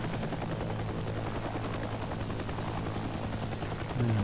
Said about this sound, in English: This helicopter doesn't like climbing.